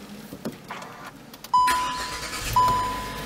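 Hyundai Elite i20 (2016) engine starting by push button inside the cabin, a sudden loud crank and catch at mid-clip settling into a steady idle, with small clicks before it.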